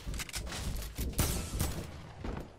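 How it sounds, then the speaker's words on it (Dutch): Gunfire in the video game Fortnite, likely a hunting rifle, with several loud, sharp shots in quick succession over a busy, noisy game background. "Volgens mij was het een hunting rifle"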